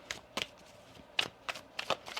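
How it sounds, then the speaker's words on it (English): Oracle cards being shuffled by hand, several quick riffling bursts and taps at close range, spaced unevenly over a quiet background. "Let's get you some oracle cards here, my friend."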